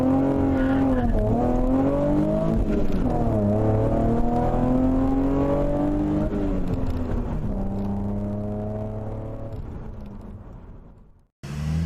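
A 2010-2015 Chevrolet Camaro V6 with an MRT exhaust accelerates hard from 0 to 60, its loud engine note rising through several gears in repeated climbing sweeps before cutting off abruptly.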